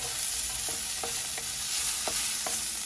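Onions sautéing in a pot, a dense continuous close sizzle with a few light spoon taps as they are stirred.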